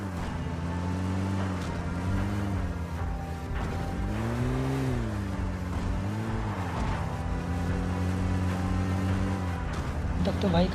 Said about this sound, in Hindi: अभी देखना मतलब क्या ही खतरनाक ड्राइविंग करता है भाई हमारी